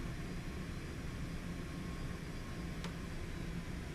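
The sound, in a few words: Cessna Citation X business jet engines while taxiing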